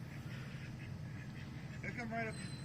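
Ducks at a campground with chickens and a turkey nearby, giving a short burst of quacks near the end over a faint, steady outdoor background, with low voices in the distance.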